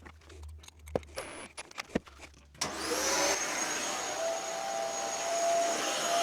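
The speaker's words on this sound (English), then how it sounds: "I've attached the vacuum cleaner" A vacuum cleaner hooked up to a pocket-hole drill while building a pallet-wood outdoor pantry and table switches on after a few sharp taps and clicks, then roars in a loud, steady whine without pause.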